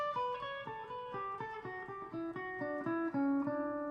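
A guitar picks a steady run of single notes climbing a diatonic scale in skipping steps, each note clean and evenly spaced, with no voices.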